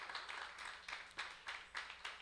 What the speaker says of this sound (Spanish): Dieron un aplauso al Señor en esta noche para su gloria y su alabanza